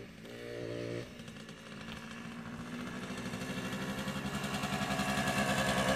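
A Hodaka Ace 100 motorcycle engine buzzes nearby with a raspy, rising note, shifting after a second and then climbing steadily as it rides past.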